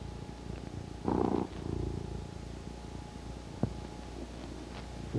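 A cat purrs softly and steadily up close, a low rumbling drone with a couple of louder breathy swells and a faint click.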